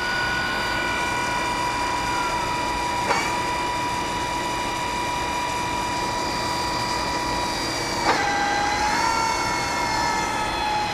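A CNH transmission tester runs in-house with a loud steady mechanical whine and layered gear tones, shifting pitch twice as it picks up RPM, with no voices.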